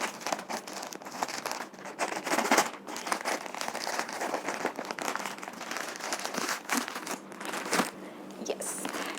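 Book parcel packaging being torn and unwrapped, continuous close crinkling and crunching of paper and plastic with bursts of tearing, steady throughout.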